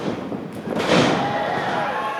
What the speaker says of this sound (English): Northern Lights suplex.